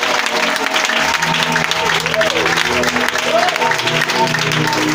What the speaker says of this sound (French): je demande à ce que tu l'acclames encore puissamment